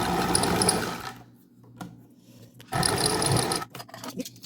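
Electric sewing machine stitching the edge seam of a fabric coin purse, two quick bursts of rapid, buzzing needle chatter separated by a short quiet pause.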